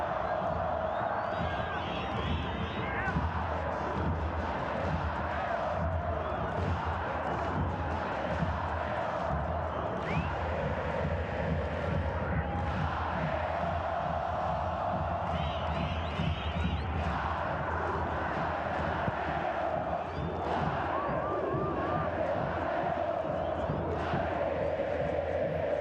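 A dense stadium crowd roars and chants continuously at a Pumas UNAM versus Deportivo Saprissa football match in the Concacaf Champions League round of 16, swelling in waves with whistles, under steady commentary.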